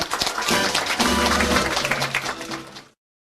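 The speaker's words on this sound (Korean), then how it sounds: "큰 박수 부탁드립니다" An audience applauds after an award presentation at a ceremony, with dense, steady clapping for about three seconds before it cuts off.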